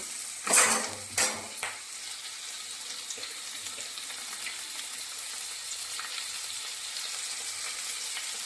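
Chopped tomato and green chili hit a pan of fried ginger and spices. A few sharp clatters open, then a soft, even sizzle carries on steadily up close as the mixture is stirred, with no speech.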